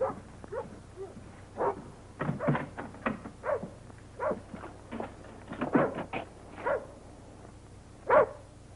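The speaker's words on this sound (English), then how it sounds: "I tied him up, but he wouldn't bark unless there was something wrong." A tied-up dog barks outdoors in a run of sharp, separate barks spread irregularly through the clip, moderately close and with no talk over them.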